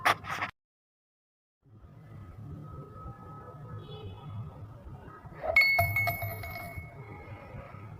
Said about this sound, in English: the coin stays in the air for a bit, for a really millisecond, and then it falls down into the glass